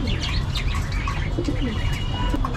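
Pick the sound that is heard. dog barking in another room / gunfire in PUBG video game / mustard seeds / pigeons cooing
pigeons cooing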